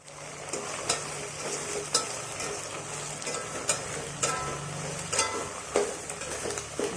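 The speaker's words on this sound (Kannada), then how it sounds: "ಬದನೆಕಾಯಿ ಹಾಕ್ಕೊಂಡಿದ್ದೀನಿ. ಅದನ್ನು ಹುರ್ಕೋಬೇಕು." Eggplant pieces frying in oil in a pan for a vagi bath gojju, a steady low sizzle with repeated clinks and scrapes of a stirring spoon against the pan, close and moderately quiet, no voices.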